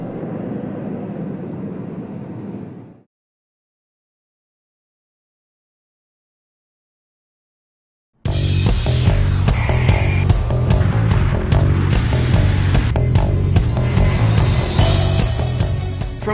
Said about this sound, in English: Slamming on the brakes so the new 747-8 can continue moving towards certification and delivery.